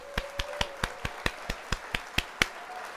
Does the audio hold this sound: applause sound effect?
yes